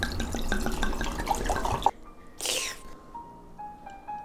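Red wine is aerated in a glass: after background music cuts off, a brief, close, hissing liquid rush and splash swells and fades, leaving faint quiet tones behind.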